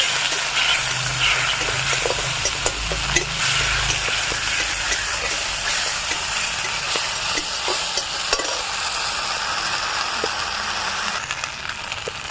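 Ginger paste hitting hot oil in a kadai with dry red chilli, bay leaf and asafoetida, a loud close sizzle and spatter with scattered stirring clicks, continuous throughout and without any talk.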